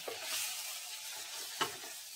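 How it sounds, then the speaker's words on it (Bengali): Onion, tomato, capsicum, ginger, garlic, chilli and turmeric sizzle steadily in a pan for a Bengali jackfruit chilli dish, with soft stirring scrapes and one sharp clunk of the spoon against the pan near the end. "এগুলো সবগুলো একটু ভালোভাবে আমি নেড়ে নিচ্ছি"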